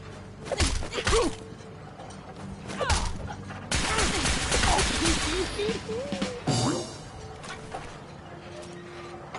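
Gunfire in Fallout 4, several sharp loud shots and bursts with crashing impacts, mixed with voices talking over the fighting.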